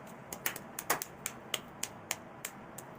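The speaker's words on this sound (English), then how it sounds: "Only 2 claps?" A few scattered claps from an audience at an event, each a sharp, isolated snap. They come spaced out over a few seconds, quiet against an otherwise still room.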